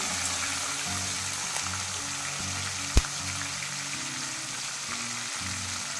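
Shrimp fry in hot oil with turmeric, producing a constant close hissing sizzle with a low rumbling undertone and a single sharp clack midway, no voices.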